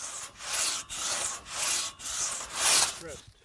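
A two-person saw cuts wood in long, even rasping strokes, about six pulls back and forth with short pauses between, close and clear.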